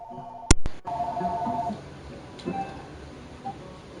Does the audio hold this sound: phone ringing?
yes